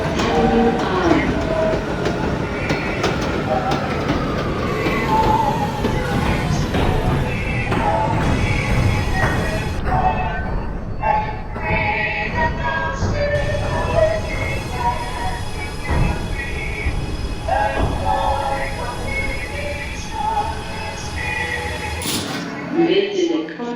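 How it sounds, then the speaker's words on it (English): R211T subway train on a G local service from the OpenBVE train simulator, rumbling and clattering steadily at close range for most of the stretch, with a station announcement voice speaking over it before it cuts off near the end. "This is a Coney Island-Stillwell Avenue bound G train via the F local line."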